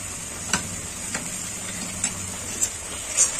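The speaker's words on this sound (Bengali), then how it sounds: "দিয়ে দেবো 1 চামচ রসুন বাটা।" A spoonful of garlic paste frying in butter with onion paste keeps up a soft, even hiss, while about five distinct spatula taps and scrapes click against the pan during the stirring.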